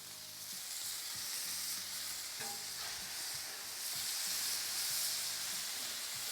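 Burger patties sizzling on a Blackstone griddle, a loud, even hiss of fat and juices with faint scraping, continuous and close, no talking.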